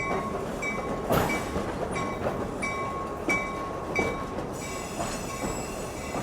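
A passenger train rolls steadily along the rails through the Lehigh Gorge near Jim Thorpe, Pennsylvania, with a continuous rumble, metallic wheel squeals and occasional clacks from the track.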